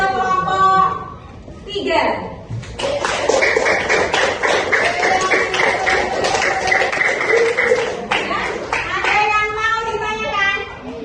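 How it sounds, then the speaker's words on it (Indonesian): A group of children in a classroom clapping on a teacher's cue, in a dense burst of applause lasting several seconds, with voices speaking before and after. "Tepuk tangan"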